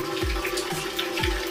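Tap water running into an electric home water heater (geyser), a steady close splashing flow with low gurgling pulses repeating about every half second, no voices.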